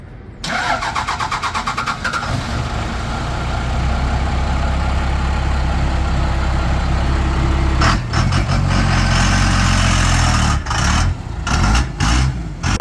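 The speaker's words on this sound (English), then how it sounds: "It's time to start up after the diesel swap" A diesel-swapped Ford Dentside truck cranks over and catches, then settles into a loud, steady, rumbling idle close by, with a few brief revs and louder bursts toward the end.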